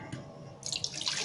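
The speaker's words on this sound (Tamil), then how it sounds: "அதில் உள்ள தண்ணியெல்லாம் எடுத்துடுறேன்," Soaking water is poured off rice being readied for idli and dosa batter, a brief, faint trickle that swells into a splashing pour halfway through.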